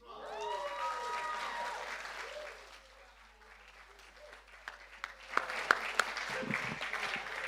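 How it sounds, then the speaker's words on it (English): Applause and a few cheers from a live poetry performance audience, loudest at the start, then a quieter stretch before sharper scattered claps and knocks return near the end. "Another round of applause for Harry, please."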